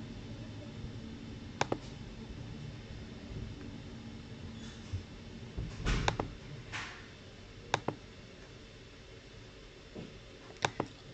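Mouse clicks in NMR TITAN spectroscopy software during a titration analysis: a few sharp, isolated clicks spaced several seconds apart over a quiet background hiss.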